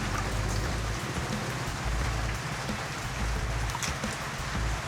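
Heavy rain falling during a typhoon at a small farm, a dense, loud, steady downpour hissing on surfaces with no voices.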